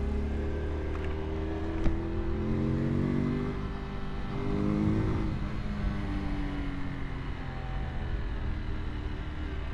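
A 2023 Honda Super Cub C125 motorcycle is ridden in second gear, its small single engine droning steadily close by, with a gentle rise and fall in pitch as the throttle shifts.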